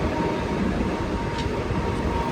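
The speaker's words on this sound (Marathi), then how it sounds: "त्यांच्या आधी आमची ट्रेन चालली." A Mumbai local train pulls out of CST station with a continuous, close, rolling rumble of carriages, steady in level and without talk.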